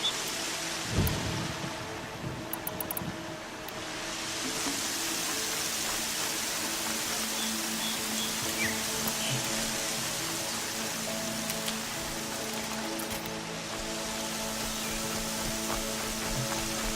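Steady heavy rain pours in Horizon Zero Dawn, with a loud crack of thunder early on and a long rolling rumble beneath the constant hiss of falling water.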